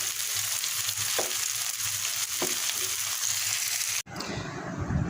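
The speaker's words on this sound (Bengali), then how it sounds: "এখন একটু ভেজে নিচ্ছি কড়াইতে তেল দিয়ে তেল হালকা গরম করে ডুবো তেলে" Liver-filled samosas deep-frying in hot oil in a wok give a steady, close, loud sizzle with a few soft stirring knocks, then a brief cut before the frying resumes.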